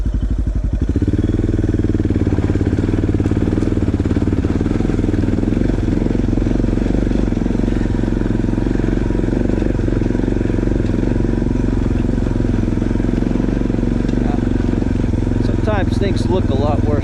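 A Suzuki DR650 adventure motorcycle on a rocky uphill trail runs with a loud, continuous engine drone that changes little throughout, while someone speaks over it.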